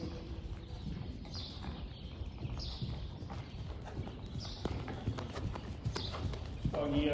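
A ridden horse at a ranch clip-clops along in a steady, even rhythm of hoofbeats, moderately close, with faint outdoor background and no clear talk.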